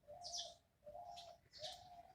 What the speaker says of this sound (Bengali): ঘুঘু পাখি ডাকছে